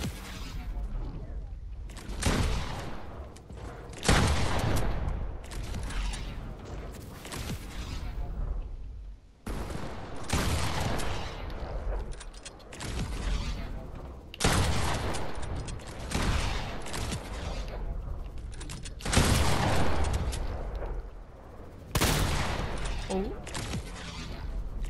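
Gunfire in the Fortnite video game, repeated loud shots and bursts spaced every couple of seconds, close and punchy, with voices talking in between.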